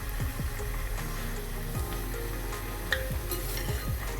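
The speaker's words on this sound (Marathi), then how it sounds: "आपलं तेल तापलेलं आहे आणि आपल्या पुऱ्या पण लाटून झालेल्या आहे. आपण छान तळून घेऊया." Sweet papdi puris, sugar-sweetened rolled dough, frying in hot oil with a steady, continuous sizzle, close up, with soft bubbling crackles and occasional clinks throughout, no voices.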